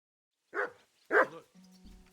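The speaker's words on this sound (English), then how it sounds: "I'm going to mute my mic because my dog's kicking off in the background" A dog barks twice in the background, two sharp separate woofs, then a faint steady hum follows.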